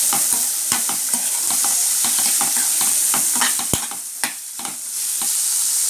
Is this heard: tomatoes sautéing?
yes